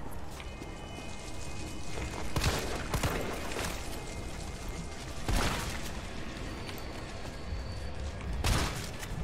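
Shotgun blasts in the video game Resident Evil 3, a few heavy booming shots spaced several seconds apart over a steady wash of dense in-game ambience.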